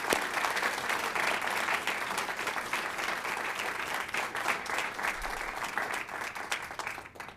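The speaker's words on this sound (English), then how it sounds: "you should be giving a round of applause" An audience gives a sustained round of applause at a boys' reading finals competition, dense even clapping continuing for several seconds before tapering off.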